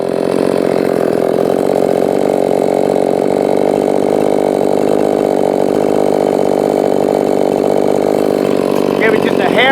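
A modified Echo 4910 chainsaw runs at a loud, steady high rev, its buzzing engine note sustained without a break, with a faint voice near the end.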